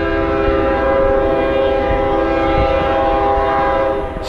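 A passing train sounds its horn in a long, loud, steady blast with rumbling rail noise underneath, continuous for several seconds before easing slightly at the end, with no talk.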